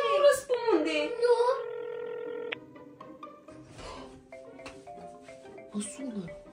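A telephone dials or rings with steady electronic tones at the start, in a Romanian household scene, then quieter tones and children's voices talking over it.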